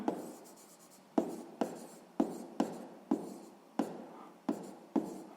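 A pen writes out a sixth-grade maths solution on paper, soft close scratching broken into a string of short strokes, each starting with a sharp tap and trailing off, about nine in a row.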